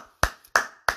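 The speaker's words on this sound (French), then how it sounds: "Applaudissez pour la femme." Three crisp, close hand claps ring out about a third of a second apart, each a sharp isolated smack with quiet between them, applauding a woman.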